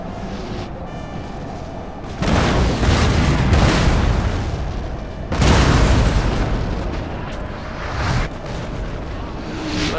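Artillery in the Napoleon: Total War battle game, two heavy booming barrages that roll and rumble over several seconds each, loud and close against background battle noise.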